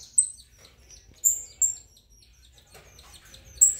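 Saffron finches (canário-da-terra) in a breeding room give short, high, sharp chirps, scattered singly and in quick pairs, close and clear against near silence.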